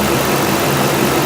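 A 5.3 V8 engine idling just after a throttle body replacement, a loud, steady, dense low rumble heard close up with no pauses.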